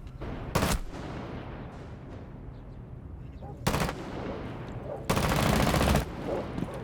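Gunfire in a tactical shooter video game: three loud bursts of rapid fire, one short early, one mid-clip and a longer burst near the end, over a low background rumble.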